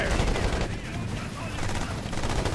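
Dense, continuous gunfire from Ghost Recon Advanced Warfighter 2 on PS3, rapid overlapping shots and bursts forming a steady loud barrage with no gaps.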